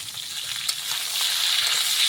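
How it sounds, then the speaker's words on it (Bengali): Pointed gourd and potato with salt and turmeric sauté in a pan, giving a continuous bright sizzle close by that swells slightly toward the end, with faint stirring underneath and no talking. "এইভাবে কষিয়ে নেব, সুন্দরভাবে নেড়ে নেড়ে ভেজে দেবো"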